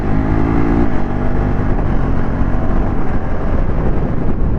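A KTM Adventure 390 motorcycle engine runs hard under acceleration, with a quick-shifter gear change cutting the rising tone sharply just before the one-second mark, then pulling on steadily and loudly.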